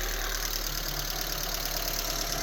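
A Honda Civic EX engine idles steadily up close, a low even hum while a rod rests on the idle air control housing and the idle speed drops.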